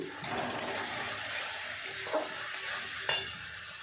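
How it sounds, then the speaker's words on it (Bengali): Spice paste of tomato, turmeric, chili powder, cumin and coriander powder with salt frying in a pan, a quiet steady sizzle broken by a couple of brief stirring knocks near the end. "খুব ভালো করে মশলাটাকে একটু কষিয়ে নেব"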